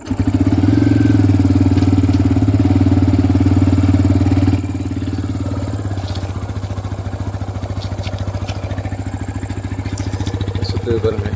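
A TVS Raider 125 motorcycle engine idles steadily and close by, running with the bike stationary during chain cleaning and lubing. It sounds loud at first, then settles to a quieter, even putter with faint clicks.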